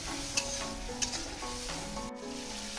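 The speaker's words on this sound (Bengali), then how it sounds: "এবার আমি মশলাটাকে ভালো করে কষিয়ে নেব" A spice masala with slit green chillies fries in a pan and is stirred, making a soft, steady sizzle. A few distinct scraping clicks of the spoon against the pan are heard, with no talking.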